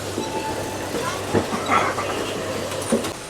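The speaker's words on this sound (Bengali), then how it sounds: "ওল্ড দিল্লি জাংশন থেকে ঠিক সময় ছাড়লো মুসৌরি এক্সপ্রেস" The Mussoorie Express pulling out of Old Delhi Junction, a low steady rumble of the moving train with faint wheel clatter and a few soft knocks, heard from on board at moderate level.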